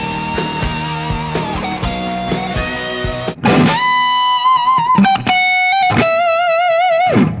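An electric guitar in standard tuning with distortion plays the opening of a solo: dense, choppy picked notes first, then long sustained, singing notes with slides between them, loud and solo, with no talking.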